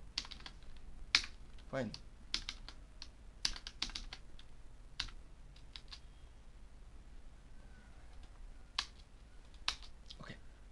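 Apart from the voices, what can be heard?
typing JSON on a computer keyboard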